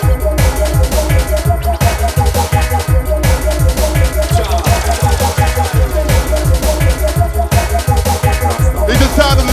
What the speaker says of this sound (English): It's the sound of the jungle dub